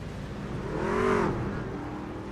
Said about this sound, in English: A lot more trucks I'm seeing coming to pit road now.